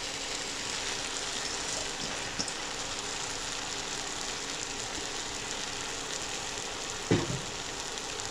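Chopped fenugreek (methi) leaves sizzling in a tomato masala for aloo gobi, with a steady soft frying hiss throughout and a brief stir or clatter near the end.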